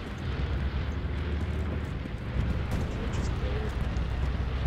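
Rumbling booms and explosions from a bombing run in the World War II shooter Hell Let Loose, a dense, continuous low roar that swells slightly partway through, with faint voices in the background.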